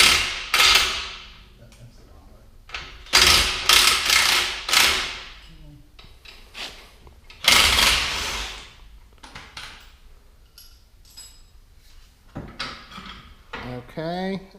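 A wrench works the lower shock mount bolt loose on a Jeep Wrangler LJ during a lift install, giving several loud metallic clanks and ratcheting bursts at close range, with someone talking now and then between them.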